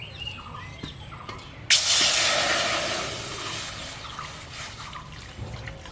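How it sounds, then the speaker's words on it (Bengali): Water pours into a cooking pot for sugar syrup in a home kitchen, a sudden splashing gush that gradually tapers to a trickle, fairly close. "এখন তাহলে মিষ্টি শিরার জন্য জল দিয়ে দিচ্ছি।"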